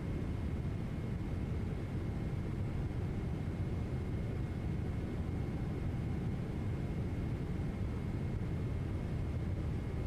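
Engines of a Boeing 777 in a flight simulator on a Thai Airways flight drone as a steady, constant roar with no break. It sounds close and even, with no voices.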